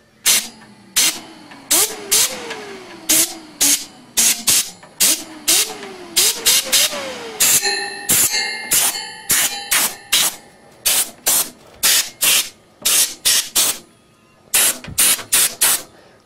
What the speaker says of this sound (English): But I want to get this blown out, so I got my air